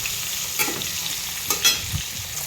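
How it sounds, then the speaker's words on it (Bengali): Fish pieces frying in oil in a pan give a close, continuous crackling sizzle, with a few sharper pops and spatters over the steady hiss. "এই দেখুন মাছগুলো ভাজা হচ্ছে আস্তে আস্তে"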